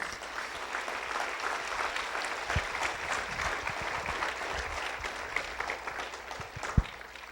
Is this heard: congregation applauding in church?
yes